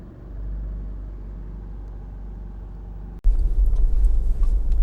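A 2.2 diesel automatic Honda CR-V EX gives a low, steady cabin rumble on the road. After a brief dropout the drone comes back louder and rougher, with no talking.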